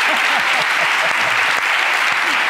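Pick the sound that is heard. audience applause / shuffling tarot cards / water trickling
audience applause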